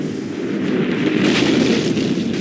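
Cannon fire pounds during a city bombardment as a dense, continuous low rumble of distant booms blending into one heavy roar, loud and steady throughout.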